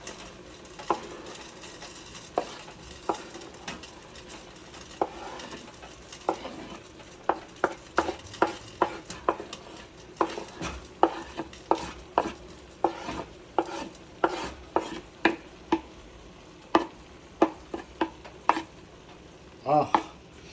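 Chili and onion stirred and fried in a pan, a spatula clacking against the metal in quick irregular strikes over a soft continuous sizzle, close and steady throughout.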